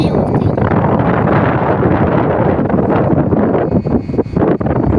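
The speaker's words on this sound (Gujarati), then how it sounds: "પાખડું કેવડું મોટું પવન છે" Loud, blustery wind buffets the microphone in continuous rumbling gusts, close and heavy throughout.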